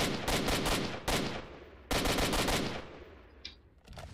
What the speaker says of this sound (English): It's an assault rifle with a scope, with a sniper scope, basically.